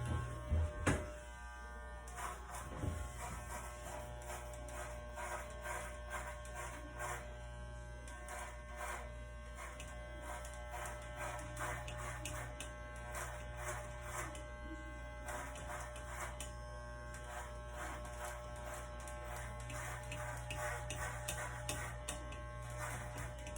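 Inexpensive electric hair clippers with the guard fully closed run steadily as hair is cut for a home fade, a constant close buzz with slight shifts in tone as the blades move through the hair.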